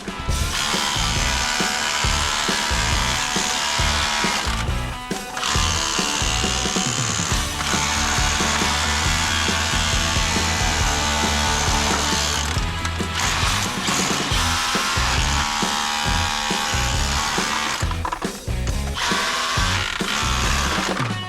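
A loud, continuous mechanical rattling and grinding of a power tool chipping rock in an underground gold mine, sustained throughout with brief dips, harsh and close.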